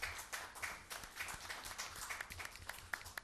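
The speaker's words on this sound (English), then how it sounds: "a round of applause to our Woman of the Year, town moderator Claire Smith" Scattered clapping at a town selectmen meeting honoring the Woman of the Year, the town moderator, with irregular hand claps at a modest, fairly distant level.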